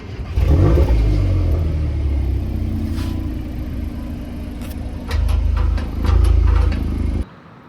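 A 2022 Volkswagen Golf R active exhaust rumbles loudly at idle, swelling in a couple of throaty blips before cutting off abruptly near the end.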